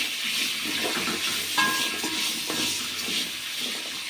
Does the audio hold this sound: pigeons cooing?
no